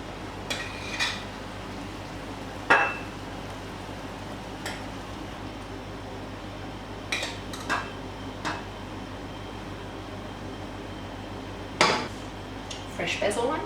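A metal spoon scrapes and taps against a pan and bowl while shakshuka with egg is served, a few sparse clinks over quiet room tone.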